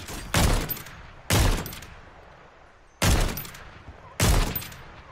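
Four sharp sniper rifle shots ring out in the video game Warzone, spaced unevenly, each loud and punchy with a short decaying tail, and no talk between them.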